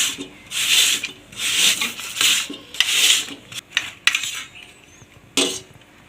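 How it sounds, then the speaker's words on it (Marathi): Raw potato is shredded on a kitchen grater in long, rhythmic rasping strokes, loud and close, the regular scraping giving way to a few shorter, uneven rubs near the end. "तर हा जो कच्चा बटाटा आहे ना, तर याला किसून घ्यायचं आहे."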